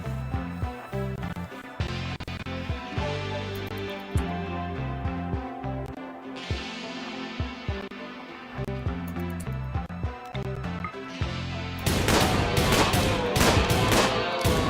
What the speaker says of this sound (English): We end up just shooting the kangaroo to death.